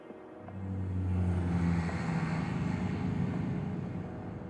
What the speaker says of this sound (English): What's that drone doing?